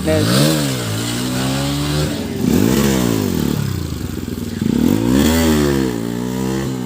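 A Bajaj Pulsar NS200 BS4 motorcycle revs hard in first gear, its exhaust rising and falling in repeated loud, close throttle blips with rough crackling between them.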